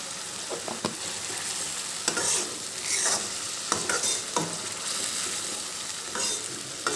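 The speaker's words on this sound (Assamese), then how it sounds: "এইদৰে মছলাৰ গোন্ধ যোৱালৈকে মই এইখিনি অলপ টাইম ভাজি থাকিম।" Goat mutton frying with spices in a pan makes a continuous loud sizzle, broken by repeated scraping and clacking strokes as the meat is stirred.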